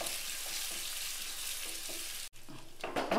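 A handful of small shallots fry in hot oil for a tempering, giving a steady close sizzle that runs unbroken, briefly drops out for an instant, then returns with sharper crackles near the end.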